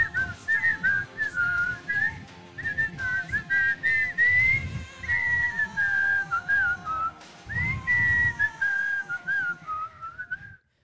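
A clear, steady whistled melody, close and alone, wavering up and down in pitch over several phrases.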